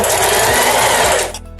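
Close and loud, a sewing machine runs a fast buzzing backstitch, securing lining onto synthetic fabric while making a case, then stops abruptly after about a second and a half.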